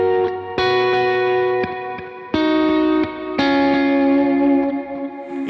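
Guitar song intro played through a rig with Big Sky reverb and Timeline delay presets, synced by MIDI clock: sustained chords restruck every second or so, with lush reverb tails and echoing repeats, loud and alone.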